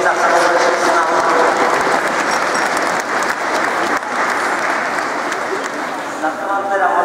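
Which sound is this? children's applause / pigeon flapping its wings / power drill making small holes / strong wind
children's applause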